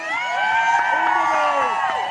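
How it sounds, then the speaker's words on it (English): Supporters on a pier and in the water cheer and whoop for three women rowers finishing an ocean row, a continuous loud crowd roar with shouting voices rising and falling throughout. "Lots of cheering."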